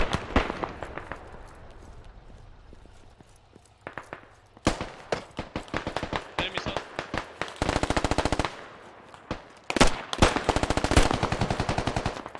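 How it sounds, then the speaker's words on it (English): Gunfire in the video game Squad, with bursts of automatic fire and single shots, some near and loud, others quieter, in irregular clusters and no talk. "Whom are they shooting?"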